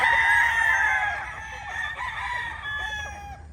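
A young Gilmore Cross gamecock stag, a local fighting-breed rooster, crows loudly and close in one long drawn-out call with a ragged, strained tail, alone with no talk.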